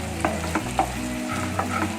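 Ginger-garlic masala paste for dhaba-style kadhai paneer sizzles steadily in a kadhai, with a few soft stirring scrapes over a continuous close frying hiss.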